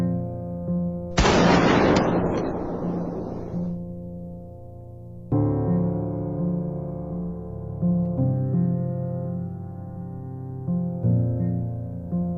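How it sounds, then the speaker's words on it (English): A single loud gunshot-like blast bursts out and decays over a couple of seconds, as if two shots fired at once, then gives way to a sustained musical tone with shifting notes. "Fine, we'll shoot at the same time."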